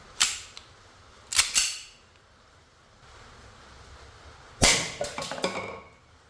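Colt 1911 We the People blank-firing pistol loaded with 4.5mm steel BBs, fired outdoors: a few sharp cracks, two close together early and a quick cluster of shots later, with wind and surf-like rumble between them.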